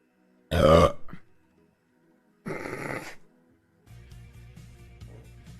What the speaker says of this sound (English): Do you guys like burps?